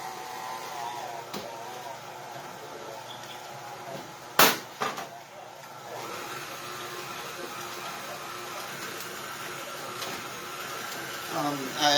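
An electric mixer whirs steadily on its slow setting through rhubarb cake batter, a low continuous motor hum with a few sharp knocks in the middle as the beaters hit the bowl.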